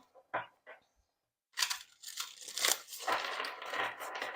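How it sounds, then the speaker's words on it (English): A tarot card deck being shuffled: crisp rustling and papery flutters, a few soft taps at the start, then a dense continuous riffle of cards, close and fairly quiet. "So I'm just going to give the deck a good shuffle."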